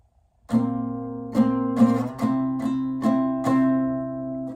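A single acoustic guitar strums a chord in a rhythmic down-and-up pattern with emphasized up strums, several ringing strokes and accented hits, played alone.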